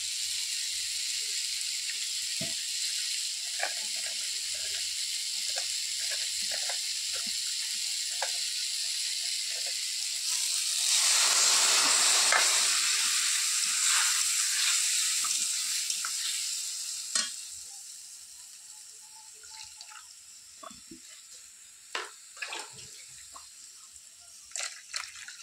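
Vegetables fry in oil in a home kitchen until a paste of ground mustard, ground cumin, turmeric and chili powder is added. That addition sets off a loud burst of sizzling which slowly dies back, and quieter stirring clicks and scrapes follow.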